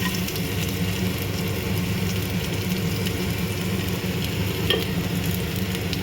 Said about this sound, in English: First we'll add few drops of normal oil, this much only, and then we'll add the chopped garlic.